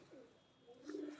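A red-eyed fancy pigeon gives a soft, low coo, a faint murmuring call that swells toward the end of the brief stretch, with no talking.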